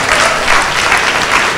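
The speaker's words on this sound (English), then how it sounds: "Another round of applause for the lovely speakers." Steady applause from a panel discussion audience, dense clapping throughout at a fairly loud level with no voices.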